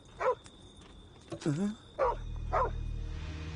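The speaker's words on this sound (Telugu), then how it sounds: "నిద్రపోయే టైంలో కుక్క అరుస్తుంది." A dog barks and yips several times in short bursts, fairly close, on a night street, with a low rumbling police jeep engine coming in toward the end.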